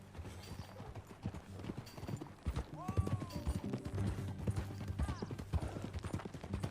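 Horse hooves clip-clop at a steady walking pace in the Western video game Red Dead Redemption 2, moderately loud under ambient game sound, with a brief snort or whinny and speech mixed in.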